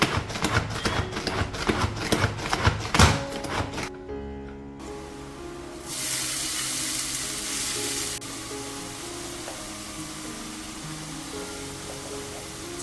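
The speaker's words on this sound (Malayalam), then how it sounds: "ആവശ്യത്തിന് ഉപ്പ് ചേർത്ത് സവാള ഒന്ന് വഴറ്റിയെടുക്കാം." Chopped onions sauté with salt in a pan, producing a dense crackling sizzle with rapid stirring clatter at first, then a steadier, softer hiss.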